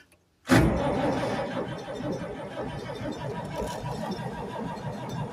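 After a moment of silence, an old International Harvester tractor engine grinds into cranking on a cold, snowy day with the throttle open. A loud, rough, continuous churning follows and carries on close by.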